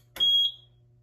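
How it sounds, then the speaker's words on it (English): A small mini fire alarm system gives one short, sharp electronic beep, close and clear, followed by a faint low hum. "It's an alarm"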